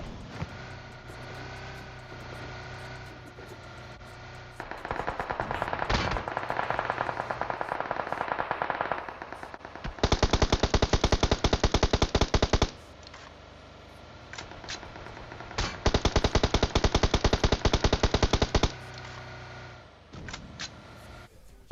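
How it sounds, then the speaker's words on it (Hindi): Rapid bursts of automatic gunfire from PUBG Mobile, several long volleys separated by quieter stretches of background game sound. "और चलाते हैं ये लोग गोली दबा के।"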